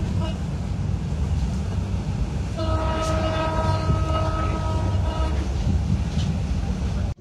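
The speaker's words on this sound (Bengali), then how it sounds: "ট্রেনটি অল্প সময়ের মধ্যে মৌচাক রেল স্টেশন থ্রু পাস করে যাবে।" Kurigram Express passenger train runs at night near Mouchak station, a steady loud rumble of wheels and carriage noise from inside a coach, with a sustained multi-tone horn blast midway.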